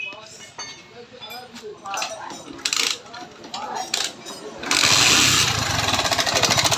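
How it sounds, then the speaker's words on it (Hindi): A TVS Victor motorcycle engine idles with a rattling, metallic ticking, then revs louder and rougher near the end. "इंजन की साउंड देखें किस तरीके से, यानी कि खिटखिटाहट जैसा साउंड आ रहा है।"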